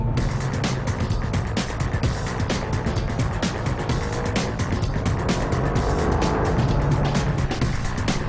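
A Ferrari 575 M being driven, heard as a steady, loud engine roar with road and tyre noise filling the whole stretch, with no talking over it.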